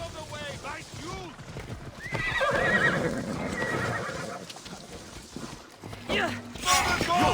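Horses ridden by mounted guards in the video game Assassin's Creed Odyssey neigh and whinny repeatedly over clip-clopping hooves, loud and close, with shouting voices throughout.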